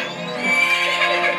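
Horse neighing in the Zelda: Majora's Mask video game, a single drawn-out, bright whinny with shaky rising and falling pitch, loud and close, with no talk over it.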